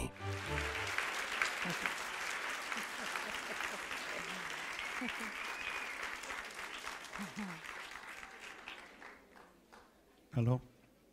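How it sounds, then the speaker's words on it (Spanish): Warm, sustained applause from a festival audience welcoming speaker Patricia May, a dense wash of clapping that holds steady for several seconds before thinning and fading, with a brief louder knock near the end. "Recibamos con el más cálido y amoroso de los aplausos a la extraordinaria Patricia May"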